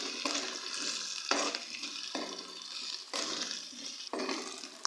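Whole spices fry with chopped onion and ginger garlic paste in a pan, making a steady close sizzle with bursts of stirring and scraping at regular intervals.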